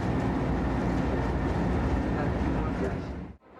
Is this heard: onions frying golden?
no